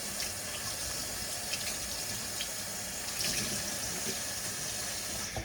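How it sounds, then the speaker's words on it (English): Tap water runs steadily into a sink as hands are rinsed clean of salt while making historical mushroom ketchup, a continuous close splashing wash with no voices. "let me rinse my hands off from all the salt"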